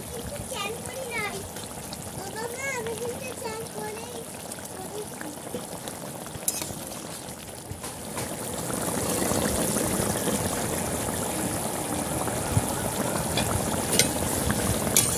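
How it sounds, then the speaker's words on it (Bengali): Bengali katla fish kalia gravy boiling in a pan, a steady bubbling and sizzling hiss that grows noticeably louder and fuller partway through, with a voice talking during the quieter first half. "ঝোল ফুটে গেছে, ঝোল কিন্তু ভালো করে ফুটে গেছে। এবার মাছগুলো দিয়ে দেবো।"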